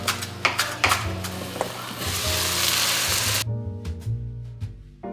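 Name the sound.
garlic and herbs sautéing in olive oil in a pan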